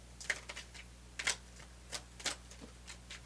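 Tarot cards being shuffled by hand, producing a series of short, crisp riffling snaps in irregular bursts, close and fairly quiet over a low steady hum.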